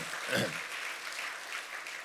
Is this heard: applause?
yes